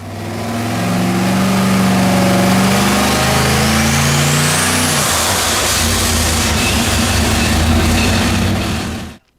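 Quad turbo LS engine with two-stage small turbos running on an engine dyno, a loud, close engine roar that climbs in pitch as it revs up, changes character midway and holds hard until it cuts off.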